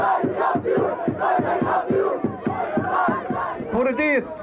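A large crowd at a harbour celebration for Urk's football championship chants loudly in a steady rhythmic beat, then breaks into rising cheers and whoops near the end.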